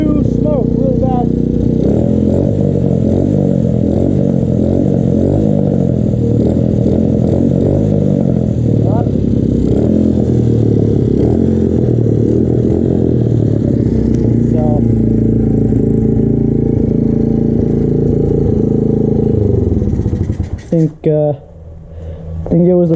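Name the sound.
Honda XR/CRF 70 82cc motorcycle engine starting and running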